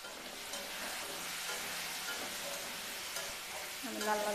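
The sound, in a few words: potatoes frying in a pan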